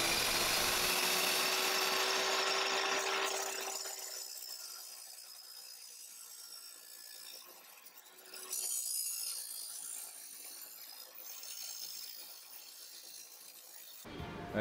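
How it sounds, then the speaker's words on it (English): A large hand saw cuts through aluminum flat stock in a workshop, giving a steady rasping, scraping stroke sound that starts loud and then continues at lower level for most of the clip, with no talk. "So I'm just using this big saw thing to saw through this aluminum flat stock."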